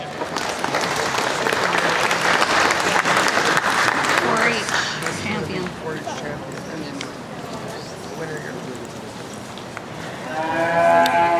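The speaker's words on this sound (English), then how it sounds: "Now let's give these guys a big round of applause." A crowd at an Ontario summer show of Jersey heifers breaks into loud, sustained applause, which fades over several seconds. Cattle moo and hooves clop in the ring, and a person speaks over the clapping.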